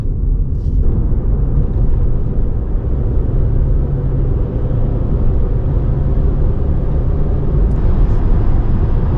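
Constant low rumbling road and engine noise inside a car moving at 100 km/h, steady and loud with no talking.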